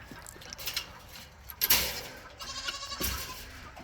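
Goats bleat on a farm, calling out a few times amid shuffling and a knock. The calls are moderately close against faint background noise, and no one talks.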